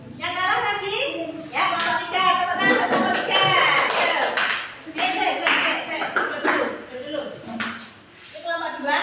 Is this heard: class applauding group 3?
yes